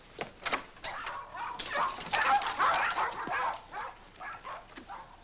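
Puppies yap and whimper in short, uneven bursts of high, close barks from a 1947 Blondie comedy film soundtrack, the yips rising in the middle and then tapering off, with no speech.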